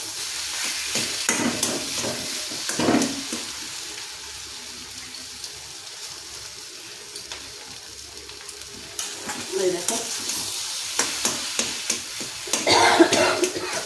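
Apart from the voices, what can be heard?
prawn heads with turmeric frying in oil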